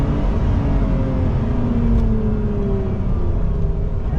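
Lotus Emira sports car accelerating, a steady engine drone with rising tones climbing smoothly in pitch, heard from inside the cabin, loud and continuous with no talking.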